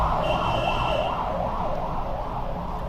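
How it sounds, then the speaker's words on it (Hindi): A police car siren wails past on a street, a loud wavering two-tone whoop rising and falling steadily over traffic rumble. "अभी पुलिस की गाड़ी गई"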